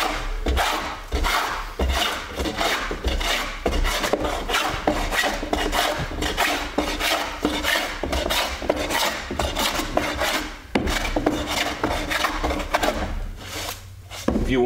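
A hand plane rasps along a wooden board in repeated, steady strokes, close and fairly loud, with no talking over the scraping.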